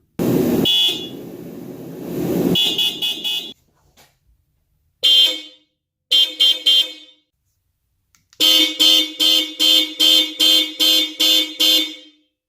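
Aftermarket Hella car horns on a 2015-or-later Subaru WRX/STI blare loudly, first in long steady blasts, then in short bursts and a rapid series of about nine quick honks, with silence between.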